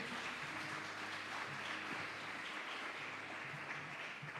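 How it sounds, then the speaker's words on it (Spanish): Church congregation applauding during a Spanish-language sermon, a faint, steady wash of many hands clapping heard from a distance, with no talk over it. "Den un aplauso al que vive."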